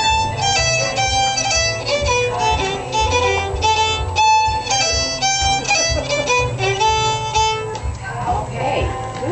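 A fiddle plays the A part of the strathspey Cutting Ferns, a bright melody of quick bowed notes over a steady, pulsing low accompaniment, continuous and fairly loud.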